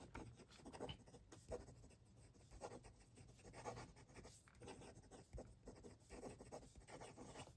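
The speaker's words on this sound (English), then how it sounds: "Quick writing." A raw copper fountain pen, a Gravitas Pens entry model, writes quickly on paper with a steady, soft, close scratching of nib strokes, and no one speaks.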